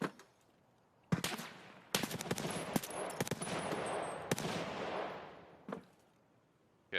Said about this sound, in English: No, that's a player shooting at him.